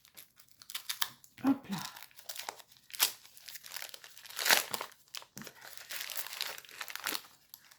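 Paper and tape crinkle, crumple and tear in bursts as a firmly taped, well-wrapped parcel is pulled open up close, with someone speaking in French between the rustles.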